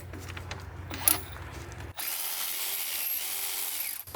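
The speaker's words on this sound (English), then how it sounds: "we're going to take a 7mm socket and just loosen this hose clamp" A 7mm socket works on a hose clamp on a turbo intake tube of a Mercedes-Benz GLA, close up. A few short ratcheting clicks are followed by a sudden steady whirring hiss that continues to the end.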